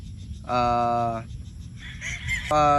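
Gamefowl roosters crowing at a game farm in Batangas, two loud, harmonically rich crows close by with clucking and other farm noise between them, over someone talking in Filipino.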